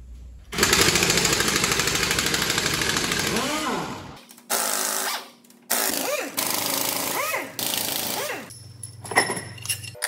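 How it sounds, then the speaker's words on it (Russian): A power tool loosens cylinder head bolts on a MAN TGS truck's D2066 engine, which has no compression in two cylinders. It gives a long, loud rattling burst followed by several shorter bursts with brief pauses between, and some talk is also present. "Теперь можем откручивать болты ГБЦ"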